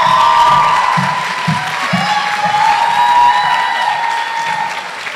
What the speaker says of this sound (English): As the confetti falls and the crowd cheers